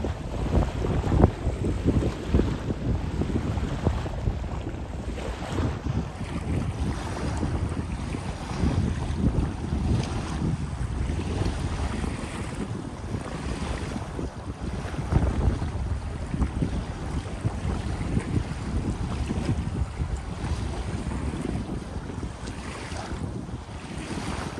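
Steady wind buffets the microphone with a constant rushing roar, gusting slightly throughout, over faint water lapping nearby.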